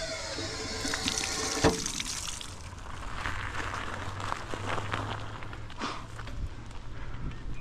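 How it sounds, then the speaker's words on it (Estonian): Water runs steadily from a push-button drinking fountain at an outdoor drinking spot, a continuous splashing stream with a brief knock near the start, heard alone at close range. "Vett tuleb ka."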